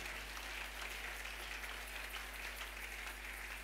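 A church congregation applauds steadily at a Sunday service, a dense, even wash of clapping filling the room at a fairly quiet level with no voices over it.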